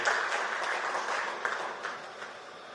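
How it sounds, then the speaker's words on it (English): Audience at a formal government event applauding, a moderate round of clapping from a seated crowd that tapers off over a few seconds. "Can we give a round of applause for the U.S. Census Bureau?"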